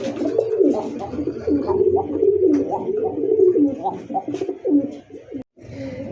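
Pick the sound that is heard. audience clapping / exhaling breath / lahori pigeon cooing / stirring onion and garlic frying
lahori pigeon cooing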